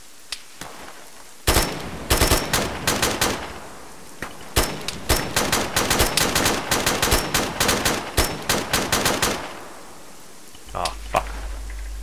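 Rapid bursts of automatic gunfire in the military shooter Arma, loud and close, with machine-gun rattles and single shots in irregular volleys for several seconds before fading to quiet.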